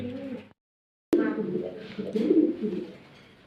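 Pigeons at a bird farm coo in soft, low, throaty bursts, close by, after a short silence, while someone talks over them.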